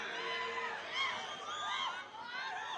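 A crowd at a political rally cheers and shouts with loud, overlapping voices and rising whoops that swell and dip throughout.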